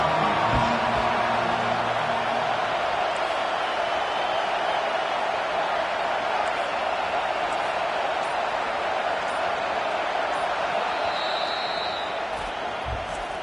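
A college football stadium crowd roars in a steady, dense wash of noise at an LSU game, loud and sustained throughout with no clear breaks, while a faint whistle-like tone briefly rises near the end.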